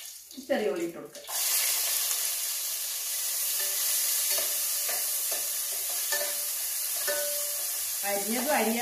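Small onions hit hot oil and set off a loud, steady sizzle that keeps going for several seconds. A voice speaks briefly at the start and again at the end.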